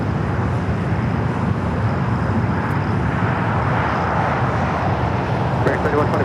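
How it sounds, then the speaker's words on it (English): An Embraer E2 jet takes off from the south side of LAX airport, its engines a loud, continuous broadband roar that holds steady throughout. "The E2 up next for takeoff here on the south side."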